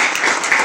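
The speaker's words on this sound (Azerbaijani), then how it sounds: "Xahiş edirəm, həm onun alqışlayın" A short burst of dense audience applause at a first-anniversary gathering, loud and close, an even wash of many clapping hands with no gaps.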